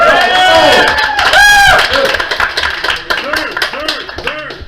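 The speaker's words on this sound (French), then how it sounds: "on applaudit Alex 2." A crowd claps and cheers briefly, the applause loud at first and then thinning into scattered claps as voices chatter over it.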